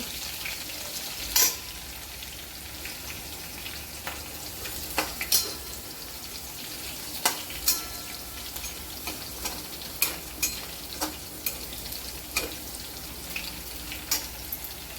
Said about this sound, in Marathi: हिरवी मिरची परतून घ्यायची